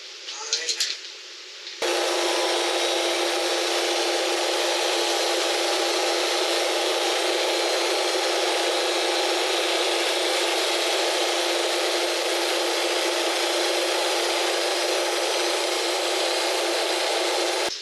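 A sawmill's carbide blade saws steadily through a log, a loud, continuous high rasping whine that starts abruptly after a brief quieter moment and holds evenly throughout.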